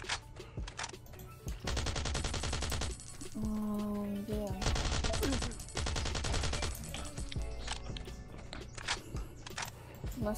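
Gunfire rattles through a raid in the video game Last Island of Survival (Rust Mobile): rapid automatic bursts and scattered single shots come and go, loud against quieter pauses, with a brief voice in between.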